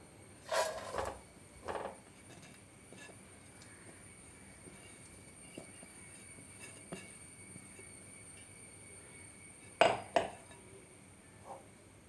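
Moistened rice flour for avalose podi being stirred while it roasts in a wide pan over medium flame, soft scraping under a faint background hum with a few sharp metallic clinks of the utensil against the pan.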